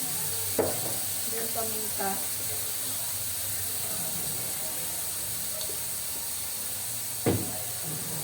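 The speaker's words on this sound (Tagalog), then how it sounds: "Gusto ko pag nagigisa yung talaga, lusaw na lusaw yung kamatis." Tomatoes sautéing with fish sauce (patis) in a pan over high heat give a steady low sizzle throughout, with a few clinks and stirs, while a person talks over the cooking.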